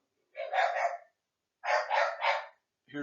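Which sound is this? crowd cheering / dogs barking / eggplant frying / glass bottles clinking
dogs barking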